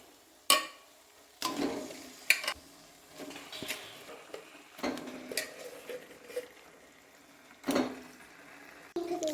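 Mutton pieces dropped into hot oil with fried spices, cooked the village way: clatters and scrapes of a utensil against the pan over a soft, steady sizzle, with sharp knocks at intervals.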